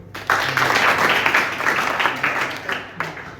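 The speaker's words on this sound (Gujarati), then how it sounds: "સાચો જવાબ છે. તાળીઓ એમના માટે." Applause breaks out for a correct answer at a school space-day quiz, a dense stretch of many hands clapping that swells and holds for a few seconds before thinning out.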